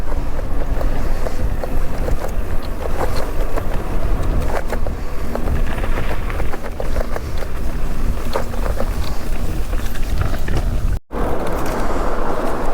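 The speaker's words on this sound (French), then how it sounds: "le vent souffle, de face bien sûr" A strong headwind buffets a cyclist riding the EuroVelo 5 route in Alsace from Bervillers toward Cernay, a loud, continuous roaring rumble of wind that cuts out briefly near the end.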